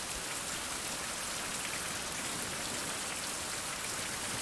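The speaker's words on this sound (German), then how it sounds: "hier kommt überall Regen hin" Steady, even rain in a video game hissing down across a wide area, a dense wash of drops with no voices and no break in the downpour.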